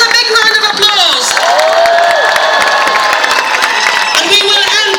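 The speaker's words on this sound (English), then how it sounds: "Give yourselves a big round of applause." Crowd at a protest in Westminster, London, cheering and clapping loudly and continuously, with whoops and a voice rising above the noise.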